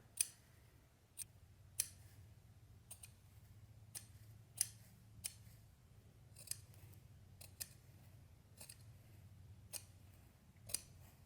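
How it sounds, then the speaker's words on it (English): Scissors trim sheepskin wool in short, sharp clicks roughly once a second, close and crisp over a low background hum. "little clips are better than going with big long strokes with the scissors here."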